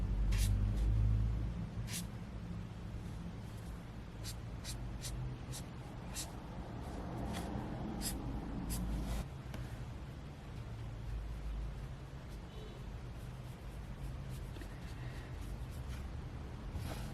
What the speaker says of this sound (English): you will pick up like trucks and buses going past